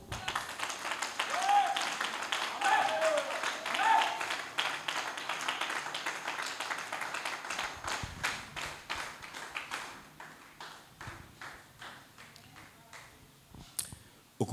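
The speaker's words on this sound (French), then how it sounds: "Une main d'acclamation." A church congregation claps in acclamation during a service, a dense run of hand claps that holds steady for several seconds, then thins into scattered claps and fades toward the end.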